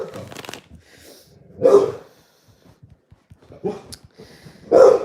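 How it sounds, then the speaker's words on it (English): A dog barks indoors in three loud, separate bursts spaced a second or two apart, with soft breathing and quiet shuffling in between. "What are you barking at, buddy?"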